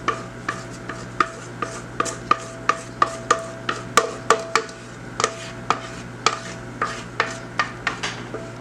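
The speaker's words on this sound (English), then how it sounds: "Scrape it out." A spatula scrapes chocolate cake batter out of a mixing bowl in brisk, evenly spaced strokes, roughly two per second, each a sharp close scrape with no talking.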